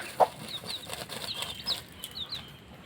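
A free-range village hen with her ten chicks, a short cluck and faint high peeps from the chicks scattered over rustling, flapping movement nearby.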